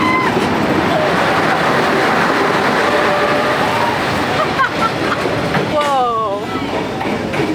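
A train rolls close past onlookers on Hanoi's narrow train street, a loud continuous rumble and clatter with excited voices and a shout over it, plus a short squealing tone near the end.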